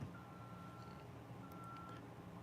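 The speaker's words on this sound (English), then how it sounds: "He's doing it right as the forklift makes the sound" Forklift reversing beeps repeat as a steady high tone over a low engine rumble, moderately close, with the beeping pausing briefly midway and then resuming.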